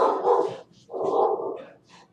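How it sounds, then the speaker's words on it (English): A dog barks in two loud bursts, then a fainter third, agitated and close by, with no talk over it. "We must have a delivery driver. Dog's going nuts."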